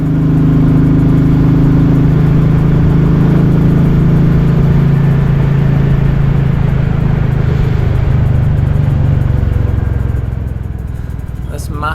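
A Royal Enfield Classic 350 motorcycle ridden along the coast, its engine a loud, steady low thrum with wind rush, easing slightly near the end, while a rider talks over it.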